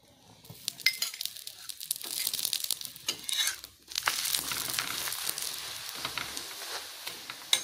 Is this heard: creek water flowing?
no